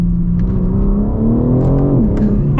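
Loud, continuous engine note from a 2023 BMW M4 Competition heard from inside while driving, its pitch climbing steadily and then dipping briefly as it shifts, steady road rumble underneath.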